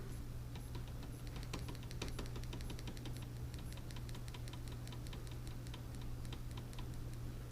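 A computer keyboard clicks with rapid, irregular keystrokes, faint and close, over a steady low hum in a quiet room.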